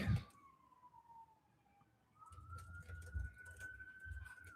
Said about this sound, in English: Is there a siren going off in the background?